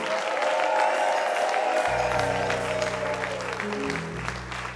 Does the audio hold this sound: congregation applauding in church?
yes